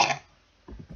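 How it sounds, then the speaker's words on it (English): A single short cough bursts out at the start, then fades into quiet, followed by a few low rough throat sounds close to the microphone. "Cough, cough, cough, cough."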